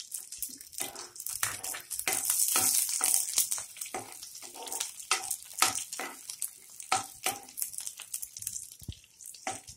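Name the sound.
green chillies and curry leaves frying in hot oil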